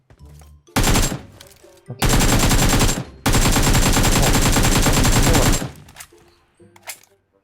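Automatic rifle fire in the mobile battle royale game PUBG Mobile rattles out in three long, loud, rapid bursts, separated by short gaps, with faint quieter shots before and after.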